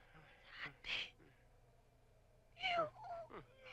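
A cat gives two short meows, a few seconds apart, fairly close in an otherwise quiet room with a low background hum.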